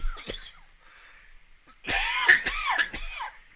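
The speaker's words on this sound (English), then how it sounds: "I know I feel like I'm coughing so much." A man coughs in short bursts, a couple of sharp single coughs followed by a louder cluster of throaty, rasping coughs, close and dry, with quiet gaps between.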